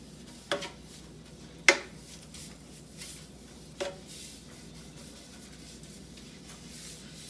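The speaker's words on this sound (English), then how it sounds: "we're going to use our heart-shaped cake pan, which we will add generously with olive oil, and we will brush on here" A pastry brush spreads olive oil across a heart-shaped cake pan: soft, faint swishing strokes with three sharp clicks of the brush or pan against metal, no voices.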